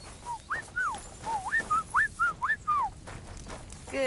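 In Kingdom Come: Deliverance II, a dog whimpers and whines in a quick series of about ten high, rising and falling cries over a low, faint background murmur.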